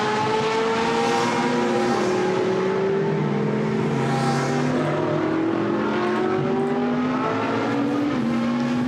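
GT race cars battle at Misano in a 2015 GT Sports Car Club main race, their engines howling and shifting pitch as several cars accelerate along the straight. The roar is loud and continuous, with overlapping engine tones sweeping up and down.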